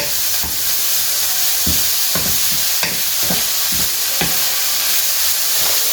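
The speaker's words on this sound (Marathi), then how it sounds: "आनी आतां हे कॅरेटाक न्ही 2-3 मिनीट अशें स्टर फ्राय करून घेता" Carrots stir-fry over a high flame in a loud, constant hissing sizzle, with a spatula scraping and knocking against the pan every second or so.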